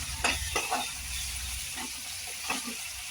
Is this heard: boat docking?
no